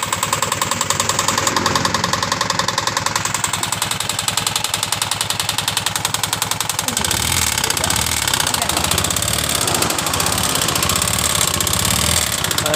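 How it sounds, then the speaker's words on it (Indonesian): A 2019 Honda Beat Sporty motorcycle engine idles roughly, making a loud, fast, sewing-machine-like clattering tick heard up close. The rattle stays continuous throughout, with a brief voice over it partway through. "Dengarkan suara kasar yang di bagian mesinnya ini"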